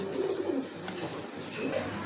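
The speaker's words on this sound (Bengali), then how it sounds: "এখানে কিন্তু বিগ সাইজের এক জোড়া কবুতর আছে" Pigeons at a pigeon market, including a big-sized pair, give soft low coos nearby, two or three murmuring calls over a steady background hum.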